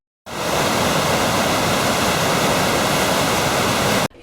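Water rushes through the opened sluice gates of an overflowing reservoir, a loud, dense, unbroken roar that starts abruptly and holds steady before cutting off.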